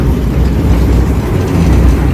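A passenger train in Dinajpur, Bangladesh pulls away and gathers speed, giving a loud, steady low rumble close by with no break.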